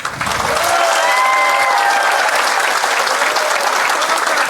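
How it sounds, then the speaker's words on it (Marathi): A large crowd at a political speech event in Maharashtra applauds loudly and continuously, a dense, sustained clatter of many hands that fills the whole stretch without speech. "तर एकदा टाळ्या वाजून हो म्हणा"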